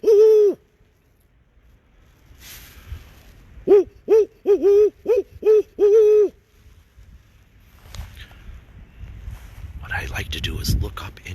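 A man imitates barred owl hoots during a spring night walk outdoors, giving one hoot and then a rapid series of about seven hooting calls, followed by faint rustling and wind.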